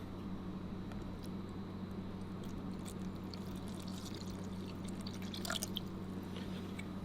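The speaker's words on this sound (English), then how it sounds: "So now we're just gonna combine the whole thing with water" Water trickles and drips into a bowl of savoury shortcrust pastry mix, faint and close, with a few brighter splashy drips near the end over a quiet, humming room.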